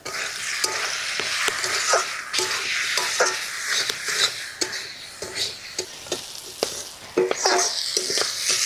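Ground turmeric, coriander, cumin and red chilli powder frying with potato and tomato for masoor dal, with a steady loud sizzle and repeated scraping stirs at an irregular rhythm, no talking.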